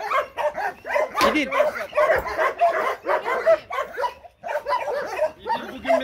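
Kangal and Chow Chow dogs bark and yip repeatedly around feeding time, a dense overlapping chorus of close, loud barks with whimpers mixed in, while people talk briefly over them.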